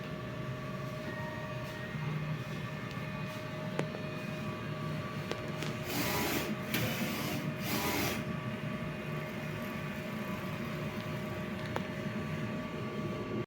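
A DTF printer running a nozzle test after a head clean: a steady mechanical hum with faint tonal whine and ticks, plus two short louder bursts of carriage or pump noise midway, all close and continuous.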